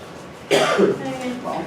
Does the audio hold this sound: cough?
yes